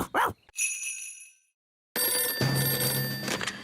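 A cartoon telephone rings with a bright, tonal electronic trill, followed after a brief silence by dense, busy sound with a dog-like yelp.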